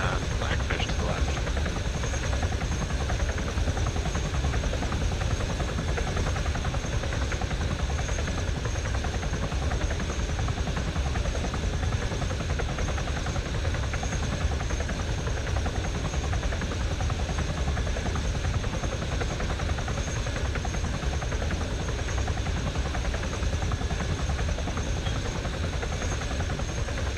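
Steady, loud rotor-and-turbine drone of a Blackfish VTOL aircraft flying in the ArmA 3 video game, holding constant for the whole stretch with faint talk underneath.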